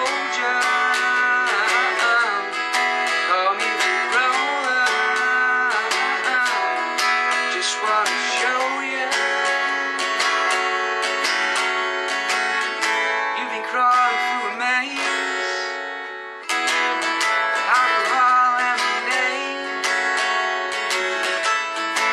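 Acoustic guitar strums the chorus of a song in a simple easy arrangement, steady and full for over twenty seconds, with one brief dip midway before the strumming resumes, no voice.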